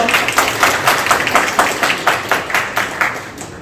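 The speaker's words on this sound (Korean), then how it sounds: "단지벤처 포럼의 회장님께 다시 한번 큰 박수 부탁드립니다." A seated audience at a venture-startup forum gives steady rhythmic applause, the claps falling in an even, fairly loud beat that fades slightly toward the end.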